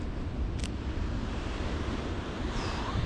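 Sea waves washing against the Scottish coast, a continuous broad surf wash mixed with gusting wind buffeting the microphone, no voices.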